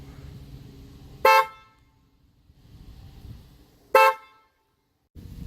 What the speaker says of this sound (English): This is the sound of the current OEM Hyundai 2017 Santa Fe Sport horn.